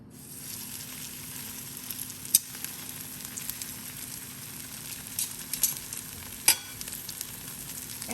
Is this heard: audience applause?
no